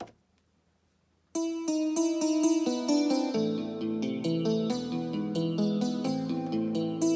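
A Yamaha PSR-275 keyboard plays a bright melody in a clean guitar tone over a steady accompaniment after a second of near silence.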